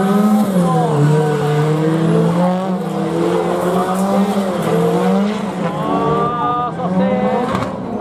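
Drift cars tandem-slide at a Japanese motorsport show in Odaiba, with a loud continuous tire squeal and wavering engine revs as they swing left and right, with a crowd and an announcer faint underneath.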